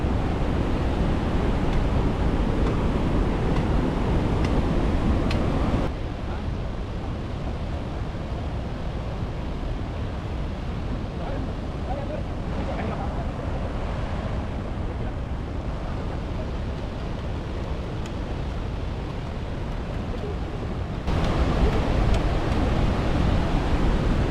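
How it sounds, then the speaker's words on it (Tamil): Rushing water at the top of Athirappilly waterfall, where the stream pours over a drop of about 90 feet; a steady, loud broadband roar runs throughout, briefly softer in the middle stretch, with no voices. "இதுதான் வந்து வாட்டர் ஃபால்ஸோட மேல் பகுதி."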